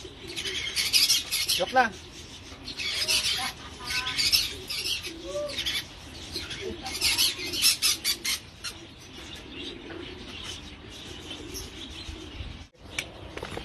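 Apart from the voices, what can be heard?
racing pigeons arriving at the loft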